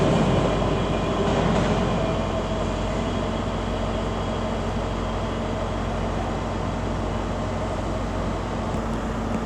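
ScotRail Class 385 unit 385011 on a service to Alloa at Glasgow Queen Street station, a steady loud rumble and hum of the train running close by throughout, with no voices.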